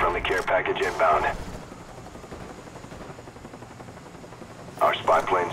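A care package helicopter arrives in Call of Duty Black Ops multiplayer, its steady rotor drone and rumble running beneath bursts of distant gunfire. A radio voice speaks at the start and end.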